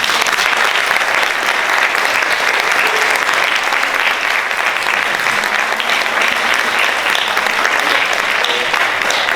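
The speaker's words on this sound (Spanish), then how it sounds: "ese aplauso que me llevo con todo el cariño del mundo" Loud, dense applause from a lecture audience in an auditorium after a talk on the painter Rosales, sustained evenly with no pauses.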